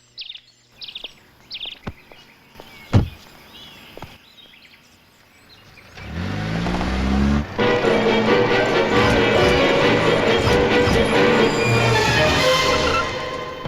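After a stretch of bird chirps and scattered knocks, a motorbike engine roars to life and revs loudly and steadily close by, filling the rest of the clip.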